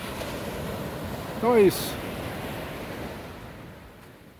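Sea waves at the shore as the tide goes out, a steady broadband wash with wind across the microphone, with a brief voice in the middle.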